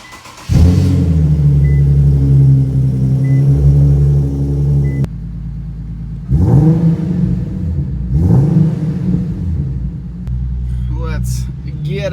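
A car engine cold-starts in a parking garage, catching with a loud sustained rumble and high idle, then revving twice in sharp rising bursts that echo off the walls, with brief talk near the end.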